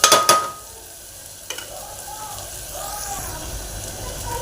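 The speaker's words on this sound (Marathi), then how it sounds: "आता याच्यामध्ये हे सगळे मसाले एकत्रच घालून घेणार आहे आणि 5 मिनिटे हे मसाले असेच भाजून देणार आहे" Spices roasting in a pan under a spatula, with a couple of sharp scraping clatters at the start, then a soft sizzle and occasional stirring scrapes beneath faint background voices.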